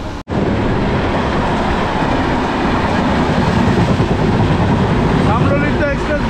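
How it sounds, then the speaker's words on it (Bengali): The 12858 Tamralipta Express rolls loudly into Nandakumar station with a continuous heavy rumble and clatter of wagons, close to the platform, ending in rhythmic clicks of wheels over rail joints. "আর এখনই ঢুকবে 12858 তাম্রলিপ্ত এক্সপ্রেস।"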